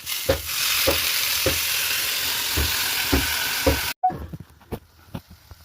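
Fenugreek leaves frying in a hot tempering for methi besan pitla, giving a steady close sizzle with regular stirring clacks of a spoon against the pan; the sizzle cuts off abruptly near the end, leaving scattered knocks.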